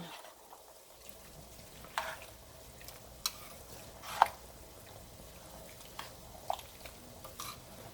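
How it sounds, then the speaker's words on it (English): Ground meat for homemade chili is stirred in a pan, a low sizzle running underneath a few scattered scrapes and clinks of the utensil, quiet and close with no voices. "Let me mix up my meat a little bit here on this side"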